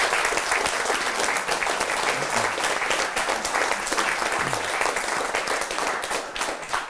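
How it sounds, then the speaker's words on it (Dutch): An audience at a 2014 municipal election debate in Venlo gives loud, continuous applause, with thick overlapping clapping that stays strong before easing slightly at the end. "Een applaus niet alleen voor jullie vier, maar ook voor de 5 overige lijsttrekkers van vanavond."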